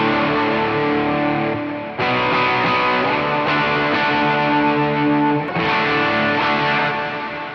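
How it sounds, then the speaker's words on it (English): An electric guitar plays through the Clear Sky distortion on a Chaos Audio Stratus multi-effect pedal, giving loud, thick, sustained chords that restrike every few seconds with no talking. "Let's go with this Clear Sky distortion."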